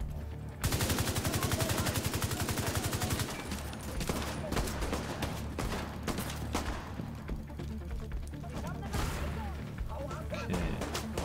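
Weapon gunfire in The Division 2 starts with a fast automatic burst. Heavy, sustained firing and crashing combat effects follow and continue throughout.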